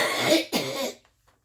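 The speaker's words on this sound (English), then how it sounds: "I'm going to cough, you guys." Two loud, close coughs in quick succession from someone working on a polymer clay mosaic, then quiet.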